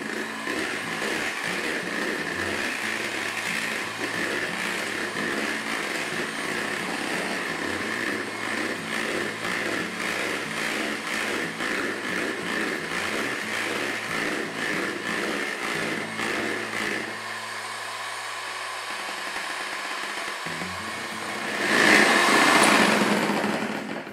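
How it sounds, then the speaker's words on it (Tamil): Electric mixer beating Japanese-style yogurt cake batter with powdered sugar until fluffy, a continuous high whine close by that stops near the end before a short burst of louder noise. "இப்போ ஃபைனலாக நம்ம நல்லா புஃப்னு வர வரைக்கும் பீட் பண்ணிக்கிறோம்"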